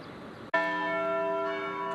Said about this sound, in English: The bells tolled at noon Monday at St. Mary's Cathedral in downtown Austin, as they do every day.